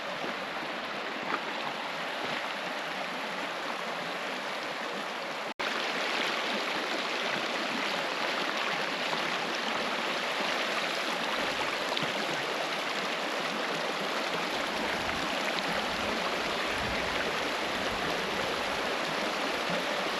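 A river in Morocco rushes in a continuous broadband wash, loud and close, its steady flow persisting with no voices.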